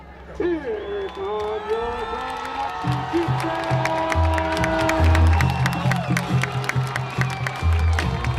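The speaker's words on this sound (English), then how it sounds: "Great ovation from the Tonganoxie crowd as they make their way through" A high school football crowd at a sectional championship game gives a loud ovation as the home team takes the field, with sustained cheering, whoops and clapping mixed with band or horn tones and some talk.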